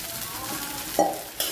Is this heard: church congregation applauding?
no